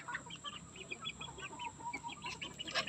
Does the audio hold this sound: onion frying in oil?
no